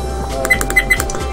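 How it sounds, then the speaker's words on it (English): Several short, high electronic menu beeps from a Discovery Adventures DS200 action camera in quick succession, clicking and chirping over a low steady hum. "That's the menu beeps as well as the power on and power off sounds"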